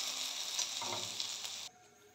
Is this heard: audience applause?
no